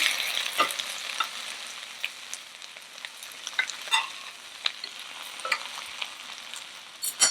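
Butter sizzling in a frying pan while hash browns are being cooked, a soft continuous fry hiss broken by scattered crackles and pops and a few louder spits near the end.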